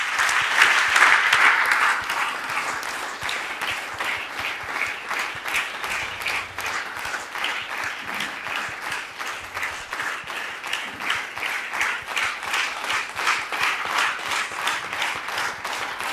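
A church congregation at a Sunday service at ACI Temple Péniel in Godomey claps in sustained, rhythmic applause, a dense steady patter of many hands lasting throughout, louder at the start and then settling into an even beat.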